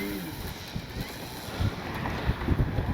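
Gusty wind roars across the microphone at an RC flying field as a 20cc Hangar 9 Valiant model plane is readied, with low buffeting rumbles rising and falling throughout.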